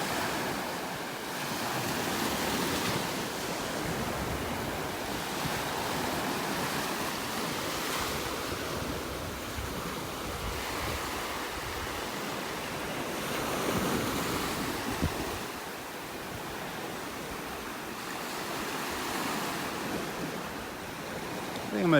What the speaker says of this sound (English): Loving the sounds of the waves.